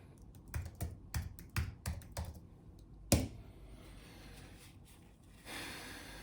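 A code is tapped out on a computer keyboard in a shared podcast studio: about a dozen close, crisp keystrokes, then one louder press and a soft rustle, with no voices.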